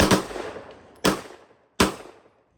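Three sharp, loud gunshots from a rifle fitted with a cheap $40 eBay binary trigger, each crack trailing into a short decaying echo, spaced roughly a second apart with no voices.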